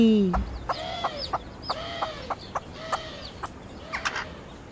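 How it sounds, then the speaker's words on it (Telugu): A hen clucks repeatedly in short, evenly spaced calls, close by and moderately loud, over a faint background hiss. "అదిగో అక్కడ గింజలు ఏరుకొని గుటుక్ గుటుక్ మని తింటూ కోడి కనిపించింది"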